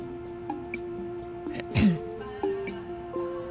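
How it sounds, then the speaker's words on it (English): A person clears their throat once with a loud, rasping burst in the middle, framed by a few softer throaty sounds and faint background noises. "just clearing my throat"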